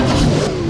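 McLaren 720S supercar engine revving in the video game Driving Empire, a steady, loud mid-pitched engine drone held for under a second with no one talking.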